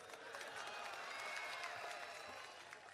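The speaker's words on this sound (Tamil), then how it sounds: "நல்ல ஒரு ஆரவாரம், கரகோஷம்" Applause from a crowd at a political rally as state leaders arrive, heard as a faint, steady wash of clapping from a distance with no breaks.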